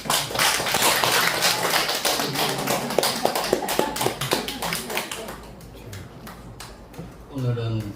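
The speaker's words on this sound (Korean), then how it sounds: "박수 한번 합시다" Church congregation clapping together after a prayer, a fast burst of many hands that thins out and fades, with a voice speaking under and after it.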